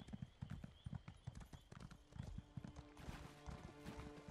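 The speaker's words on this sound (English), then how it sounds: "I guess I'm gonna hop on my horse and ride there" Horse hooves clip-clop in a steady galloping rhythm while riding through a Morrowind landscape in Elder Scrolls Online, close and fairly loud, with brief game sounds layered over the hoofbeats.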